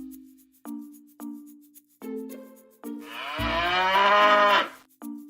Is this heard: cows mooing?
yes